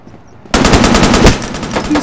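Gunfire in the shooter game Forward Assault, a loud, sustained automatic burst erupting abruptly after a quiet moment and continuing rapidly to the end, close and dominant with no talking.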